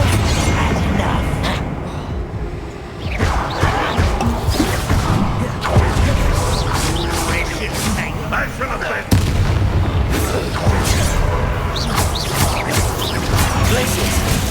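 Repeated Confringo blasting-spell explosions from Hogwarts Legacy gameplay, loud booming bursts in quick succession mixed with combat clatter and crashes, with a voice talking over parts of it.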